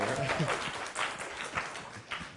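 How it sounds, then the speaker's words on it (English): Light audience applause at a medical school event, scattered clapping from the room mixed with some speech. "So can we give it a little applause"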